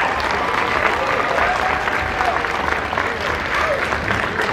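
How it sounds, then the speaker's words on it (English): Sustained audience applause fills the hall at a costume contest during a horror fan convention, a dense steady wash of clapping with crowd murmur and some talking mixed underneath. "big round of applause for the parents."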